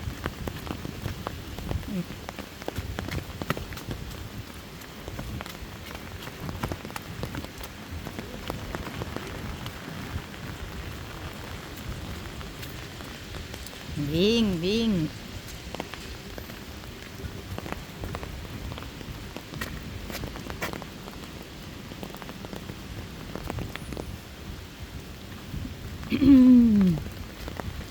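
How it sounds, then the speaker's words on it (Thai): Steady rain pattering on surfaces outdoors throughout, with brief voices speaking and calling out over the downpour. "ฝนตก"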